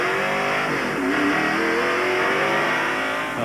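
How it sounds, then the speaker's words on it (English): A NASCAR stock car engine in the 1993 Food City 500 fires up and is put into first gear to drive away, revving loudly with rising and falling tones over a constant roar from the track. "Well, he's got the car fired now."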